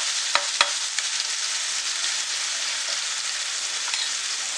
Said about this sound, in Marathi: त्याच्यानंतर त्याच्यामध्ये टोमॅटो आणि कांदा आणि हे आपण छान असं मस्त शिजवून घेऊया